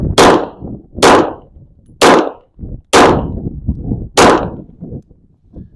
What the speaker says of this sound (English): I'm sending 5 shots downrange.